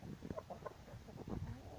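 A rooster clucks in a few short, soft bursts close by on a farm, with a low background murmur and no clear talking.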